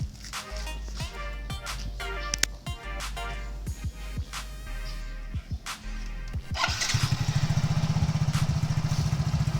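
An automatic scooter engine, just after its air filter was cleaned, cranks and fires with a series of sharp bursts and short revs, then settles into a steady, rapid idle putter close by.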